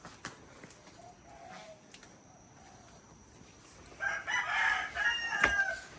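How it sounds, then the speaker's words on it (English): A rooster crows at about 3:30 in the morning near a hotel in Bali, one loud drawn-out crow rising over quiet night ambience after a few faint distant calls. "And then there was a rooster who thought 3:30 in the morning was the time to wake everybody up."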